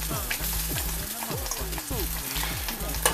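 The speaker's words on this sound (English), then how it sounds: "you see it's starting to boil, like it's about to pop me in the face right now" Cheesy grits in a pot coming to a boil, giving a steady close bubbling and popping sizzle that runs continuously without a pause.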